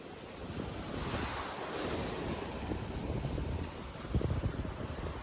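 Sea waves washing up on the beach at Digha, a continuous close rush of surf mixed with strong wind buffeting the microphone, swelling slightly toward the end.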